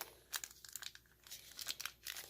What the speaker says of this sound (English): Get these cards open.